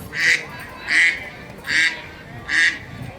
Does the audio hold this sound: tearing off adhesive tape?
no